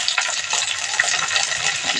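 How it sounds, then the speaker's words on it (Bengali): Cubed onions sizzle loudly in hot oil in a pan while chilli chicken is cooked, a steady bright hiss with small popping crackles throughout. "এবার এর মধ্যে আমি কিউব করে কেটে রাখা পেঁয়াজগুলো দিয়ে দেব।"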